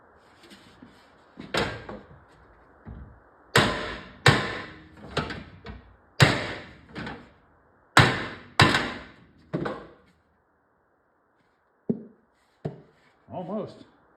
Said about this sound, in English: I wonder if I can do a little bit more hammering and get that to actually stay out.